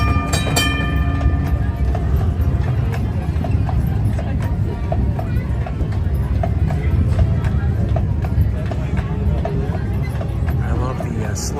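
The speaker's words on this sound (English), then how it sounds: "I love hearing the clippity-clop of the horse's hooves" Hooves of a horse pulling a carriage at Disneyland clip-clop in a slow, steady, even rhythm throughout, with park crowd noise and nearby talk beneath.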